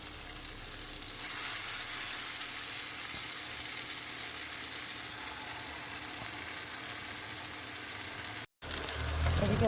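Spices hit hot oil in a karahi with onion nearby for a bottle gourd greens dish, giving a steady, loud sizzle and crackle that holds evenly throughout, with a brief dropout near the end and no voices.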